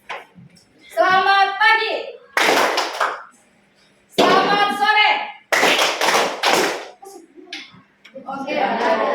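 A class of children clap in short counted bursts as part of a greeting routine, the crisp claps sounding close and alternating with the children's chanted greeting and a teacher's voice.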